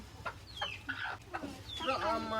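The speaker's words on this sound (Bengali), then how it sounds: "ফাইনালি আমরা একটা মুরগি ধরতে পারলাম" A just-caught chicken clucks and squawks in short, agitated bursts close by, while people talk nearby in a Bangladeshi village.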